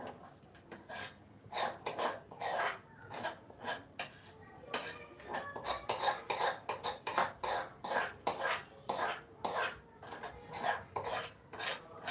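A spoon scrapes and clinks against a bowl and pan while thick homemade oil-separated Schezwan chutney is served out, giving repeated close, irregular rasping taps with no talking.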